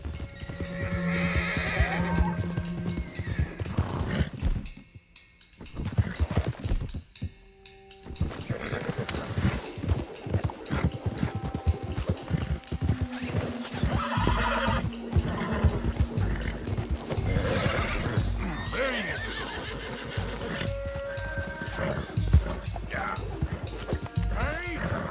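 Horses in Red Dead Redemption 2 gallop with rapid hoofbeats and loud, repeated neighs and whinnies after gunshots, amid busy outdoor commotion and brief moments of near silence.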